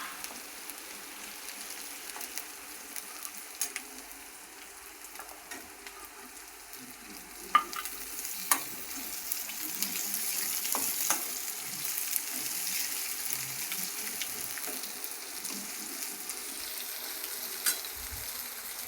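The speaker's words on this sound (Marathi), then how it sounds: "बघू शकता तुम्ही कांदा किती सुंदर भाजत आलाय. आता टमाटे टाकायचे." Onion fries in a pan as tomatoes go in and are stirred for thecha, giving a soft, steady sizzle with scattered scraping clicks of the spoon, quiet and close, with no talking.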